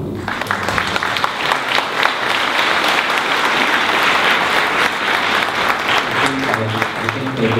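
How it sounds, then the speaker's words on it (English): A steady wash of applause from an audience at a panel discussion against scapegoating and hate mongering, sustained and full throughout, with a voice emerging faintly near the end. "please give a round of applause to all the people on the panel"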